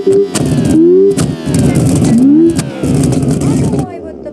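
A Toyota AE86 Levin engine in BeamNG.Drive revving repeatedly, with several rising and falling rev sweeps in quick succession, loud and close, each climb followed by a brief drop before the next.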